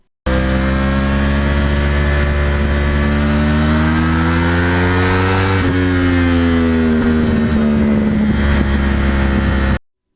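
Yamaha R1 crossplane sport bike running on stock mufflers, its loud, steady engine drone holding close by and shifting pitch as the revs climb and ease, with no voices.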